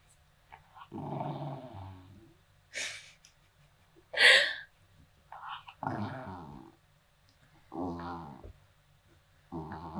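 A dog growls in several short, throaty bursts with pauses between them, close and fairly loud, mixed with huffing breaths during lazy play outdoors on a hot day.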